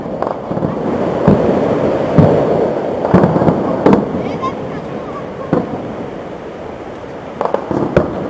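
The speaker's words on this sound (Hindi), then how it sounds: "पुंछ जिले में पाकिस्तान ने बिलास्टाइल फायरिंग की" Sharp cracking gunshots go off irregularly, several in a row, over a noisy outdoor background, echoing from across the Line of Control in Poonch, Jammu and Kashmir.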